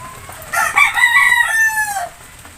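Gamecock hens and roosters of a gray line on a breeding farm, one bird crowing loudly and close for about a second and a half, with faint clucking before and after.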